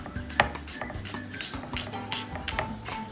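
A chef's knife slicing a red onion on a cutting board: quiet, quick rhythmic taps and light clicks of the blade striking the board, close by and steady, with no talking.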